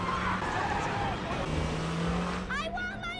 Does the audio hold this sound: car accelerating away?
yes